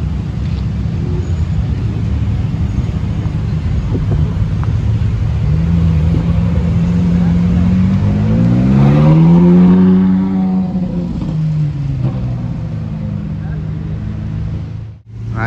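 A Ferrari 458 engine revs up and roars past, its pitch rising then falling as it pulls away, with steady background noise throughout.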